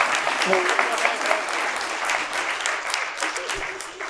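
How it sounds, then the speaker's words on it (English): Wedding ceremony guests give a sustained round of applause for the bride's parents, a thick, continuous clapping wash with a voice speaking over it. "Another round of applause for Eddie and Ada."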